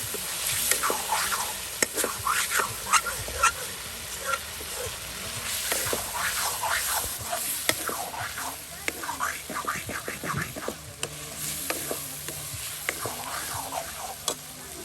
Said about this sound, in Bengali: এই যে মাংসটা আপনার মশলার সাথে কষিয়ে নেওয়া হচ্ছে